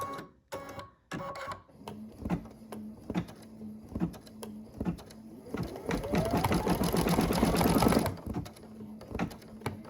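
Brother Essence VM5200 embroidery machine stitching red ball accents onto a tea towel, a steady rapid mechanical chatter that builds louder and denser midway, with some background clatter before it.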